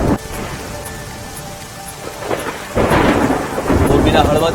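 Heavy monsoon rain pours steadily across a flooded area, with loud rumbles of thunder rolling close by; the downpour swells louder and denser toward the end, with no voices.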